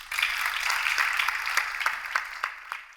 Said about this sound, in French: Public, ça s'applaudit.